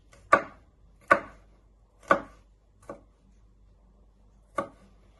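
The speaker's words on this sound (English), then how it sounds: "Turn it around and chop it into little pieces" A kitchen knife chops a garlic clove on a cutting board in five sharp, distinct knocks at uneven intervals, close and clear against near silence.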